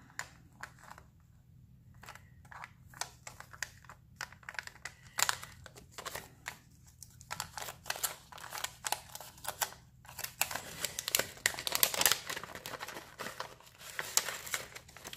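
A small pouch made of vellum paper is opened by hand, with soft crinkling, rustling and scattered crisp ticks that grow denser and louder toward the end, close and quiet.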